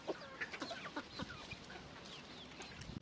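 Chickens cluck and murmur nearby in short, irregular bursts, a soft busy chatter with occasional sharper calls.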